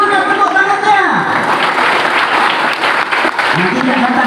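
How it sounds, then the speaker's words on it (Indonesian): Children clap their hands together in a lively burst at a gathering of Islamic boarding-school students, the steady clatter mixed with voices calling out over it. "Ayo tepuk tangan anak-anak makan sate."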